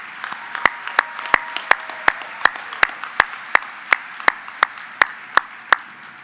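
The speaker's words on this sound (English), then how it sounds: "One more round of applause for these three individuals" Applause from a commencement audience in an indoor hall, a steady rhythmic clapping with sharp regular claps standing out above a softer wash of many hands.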